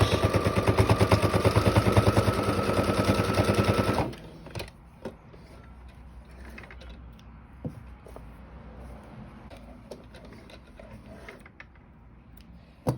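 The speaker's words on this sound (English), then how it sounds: "You're going to do a back stitch." Sewing machine back-stitching a small fabric face mask pouch: a loud, fast, steady mechanical rattle for about four seconds, then it stops, leaving faint clicks and handling noises.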